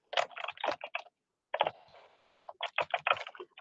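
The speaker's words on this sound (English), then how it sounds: "typing it in for you" Bursts of typing on a computer keyboard, close and clear, with quick clusters of key clicks separated by a short pause.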